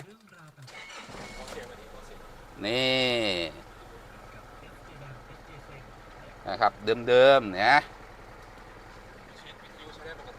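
A four-door Isuzu D-Max pickup truck engine cranks and catches at close range, then settles into a steady idle with a second brief revving burst, while someone talks over it.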